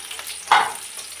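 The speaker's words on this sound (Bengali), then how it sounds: "সবগুলো মশলা একসাথে একটু ভাজি ভাজি করে নিতে হবে।" Onion, green chili, bay leaf and cinnamon fry in hot oil with a brief, loud burst of sizzling as they hit the pan, then a softer crackle; no one speaks.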